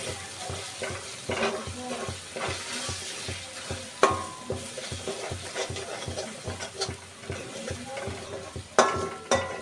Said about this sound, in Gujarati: હલાવીશું તળવા દઈશું